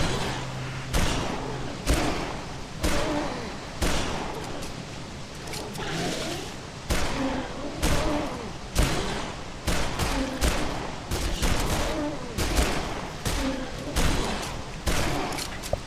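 Rapid gunfire in the zombie video game Dead Island, with dense repeated shots and thuds filling the whole stretch at close range, loud and continuous with no talking.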